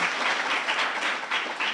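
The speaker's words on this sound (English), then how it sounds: "Another very big hand of applause for Professor Msibi" A colloquium audience gives Professor Msibi a dense round of applause, many hands clapping together in a steady wash, close and sustained through the short moment.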